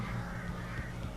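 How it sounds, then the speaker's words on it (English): Crows cawing in the video game Alan Wake, harsh calls repeating under a constant ambient background at moderate distance. "Ё-моё, сколько птиц."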